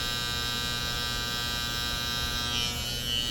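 Electric hair clipper buzzing steadily during a taper haircut, a close, constant motor drone without pauses or voices.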